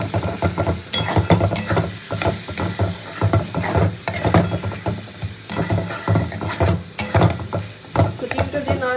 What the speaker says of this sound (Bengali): ডিমটা দিয়ে ভাজবো।